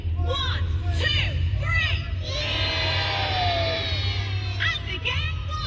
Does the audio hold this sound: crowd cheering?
yes